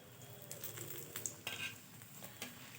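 Bengali pitha sizzles in hot oil while a utensil scrapes and clinks against the pan as the cake is lifted out, set against a steady low frying hiss.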